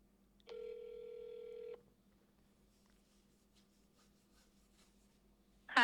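A single steady ringback tone from an outgoing phone call sounds faintly over speakerphone for about a second in a quiet room, then a short burst of noise follows.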